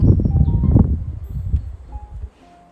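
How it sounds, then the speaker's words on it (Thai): Strong wind gusts through a snowfall at minus five degrees, a broad low rumble with rustling that rises and falls in buffets for over two seconds, then drops away to near quiet. "เพราะว่าลมแรงมาก"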